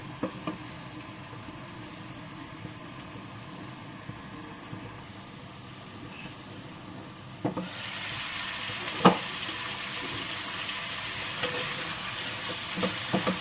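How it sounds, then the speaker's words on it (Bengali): Spice masala fries in a pan, sizzling softly at first with occasional stirring knocks, then turning into a much louder, brighter, steady sizzle partway through, with a spoon tapping now and then. "মশলাটা একটু ভালো করে কষবে আর একটু কষবে"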